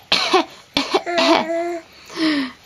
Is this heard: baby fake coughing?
yes